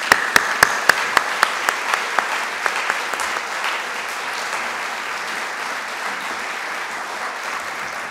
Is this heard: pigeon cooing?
no